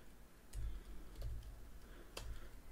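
Keystrokes on a computer keyboard entering a short build command, with three brief clusters of soft clicks spread across a quiet, faintly hissing room; no one speaks.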